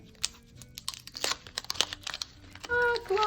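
A paper surprise packet being torn open at its notch, with close crinkling and a few sharp rips and rustles, followed by a brief bright tone near the end.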